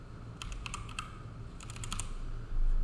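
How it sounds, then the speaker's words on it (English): Quick keys clatter on a computer keyboard in two short bursts of typing, close and clear, with a soft thump at the end. "thought I was typing"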